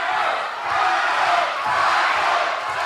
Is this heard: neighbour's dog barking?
no